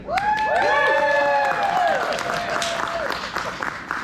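Audience at a festival talk on race and American politics breaks into applause with cheering and whistles, loud and close at first, then slowly thinning out.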